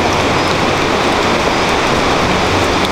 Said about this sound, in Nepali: अनि पानी एकदमै ठुलो बर्किरहेछ